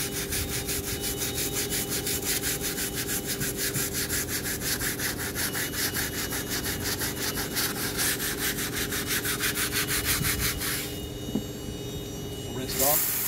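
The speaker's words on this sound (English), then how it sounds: "And then we're gonna take our stiff bristle brush." A stiff bristle brush scrubs EVA non-skid decking being cleaned of rust, giving a steady rhythmic rasping with a constant hum underneath, then easing off near the end.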